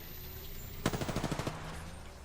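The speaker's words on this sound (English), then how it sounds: "Enemies are shooting at me." Single rapid burst of automatic enemy gunfire in Apex Legends, about ten quick evenly spaced shots lasting under a second, fairly loud against a quiet low hum.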